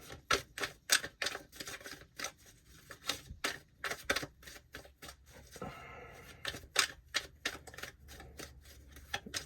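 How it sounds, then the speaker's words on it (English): Tarot cards are shuffled by hand, close up, as rapid, uneven runs of crisp flicking and slapping clicks with brief pauses and no talk. "All right, one more shuffle here."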